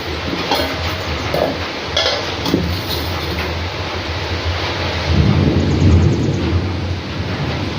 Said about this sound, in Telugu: వర్షం సౌండ్ వినిపిస్తుంది కదండి